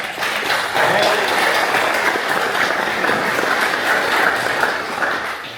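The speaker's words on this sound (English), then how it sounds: "I want you to applaud that loud and proud" A crowd applauds loudly and steadily, dense clapping from many hands filling the whole stretch, with a slight swell around the middle and some crowd noise mixed in.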